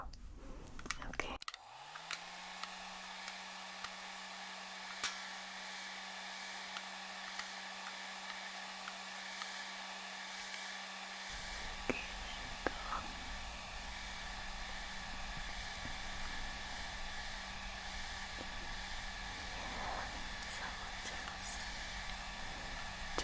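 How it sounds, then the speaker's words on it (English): A small hair dryer switches on after a few soft clicks and blows with a steady, close whir during an ASMR barber-shop haircut. Faint handling noises sit underneath, and the pitch drops to a lower setting partway through. "So I've got my little hair dryer here."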